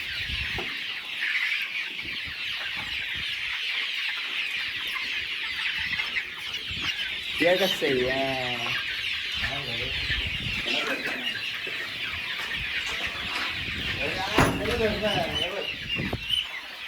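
Chickens cluck and squawk in short bursts close by, with a few voices speaking in the background.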